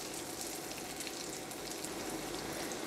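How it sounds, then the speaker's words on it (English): Dried shrimp frying in hot onion oil in a pan, a continuous fine crackling sizzle, soft and steady throughout with no talking. "Oil getting hot, I'm putting in the dry shrimp. We're going to fry the dry shrimp for about 30 seconds."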